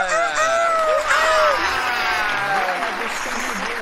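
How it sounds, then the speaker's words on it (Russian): Applause and cheering from a crowd at an in-game birthday party, rising quickly and holding strong with whoops and babble through the few seconds. "аплодисменты!"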